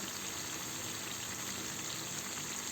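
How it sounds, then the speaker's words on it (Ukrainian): A steady, dense bubbling and hissing of cabbage boiling in a pot of water, continuous and fairly close, with no talk. "капусточка в мене тут кипить"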